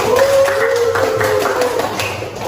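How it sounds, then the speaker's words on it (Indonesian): Students in a classroom clapping hands, a short run of fairly loud, rhythmic claps close by with a faint tone running underneath. "Tepuk tangan dulu."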